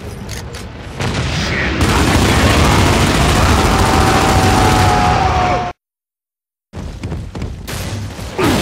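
Loud, dense gunfire and explosive booms from the video game Gears of War 2, sustained for several seconds before a sudden silent gap, then more shooting resumes.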